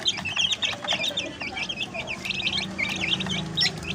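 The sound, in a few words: chicken clucking and pecking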